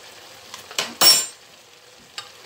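Chicken fajita being mixed with chicken gravy in a pan: a few short scraping stir strokes with a soft sizzle, one louder burst near the middle, close and without talk.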